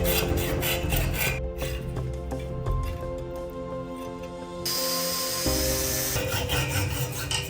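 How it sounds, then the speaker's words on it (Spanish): A metal shaft being cut so a bearing can spin freely, a close, continuous rasping grind with steady tonal ringing that shifts pitch partway through, with no one talking. "Ahora debemos cortar de esta forma el eje para que el rodamiento pueda girar libremente."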